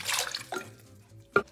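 Water poured into a baby bottle to measure half a litre, a short splashing pour followed by a few faint drips and a brief final splash, quiet and close.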